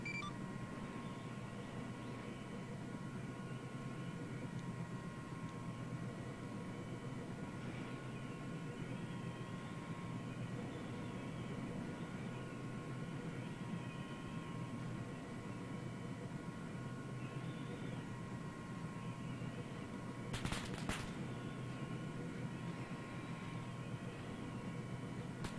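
Steady, droning aircraft engine in a video game as the plane climbs for altitude, a constant hum with faint tonal whine layered over it and a brief sharp burst near the end.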